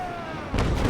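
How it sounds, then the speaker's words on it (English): Ship's cannon volley fired at an enemy vessel in the naval combat video game Naval Action, a sudden deep booming burst breaking in after quiet ambience, loud and close. "We'll give her a volley because we're not ready to board yet."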